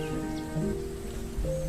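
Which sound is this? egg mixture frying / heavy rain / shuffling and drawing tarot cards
heavy rain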